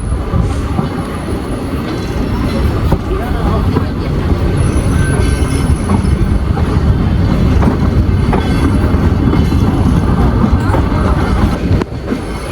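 The Ooty toy train of the Nilgiri Mountain Railway rumbles and clatters along its track in monsoon season, loud and close, with a continuous rhythm of wheels over rail joints.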